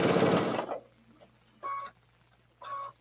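A sewing machine stitches fabric strips for 60 degree triangle placemats in two short, whirring bursts separated by quiet pauses, quite near.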